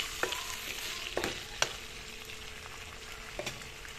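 Raw fish pieces fry in a pan over a low flame, giving a steady soft sizzle broken by a few sharp clinks and scrapes as they are stirred, with no talking.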